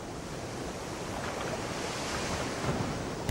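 Ocean waves from the Indian Ocean and strong wind batter a stranded ship off Madagascar's coast, a steady roaring wash of surf and gusting wind noise with no voices.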